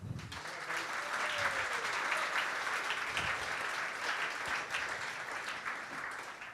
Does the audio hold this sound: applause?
yes